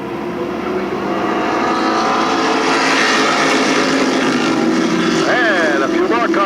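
Pro stock race cars at Stafford Speedway roar together on a green flag restart, a dense, loud, sustained engine drone with a rising whine near the end.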